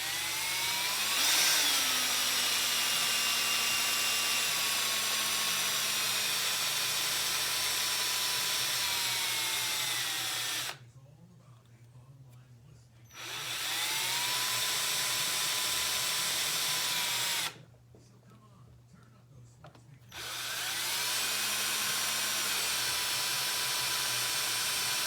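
Power drill boring out a broken stud on a 1985 Harley-Davidson FXRS Evo engine, a steady loud whine that runs continuously, stops twice for a few seconds, then resumes.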